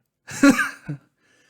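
A single chesty cough, a short rough burst followed by a smaller second hack, close and isolated against silence.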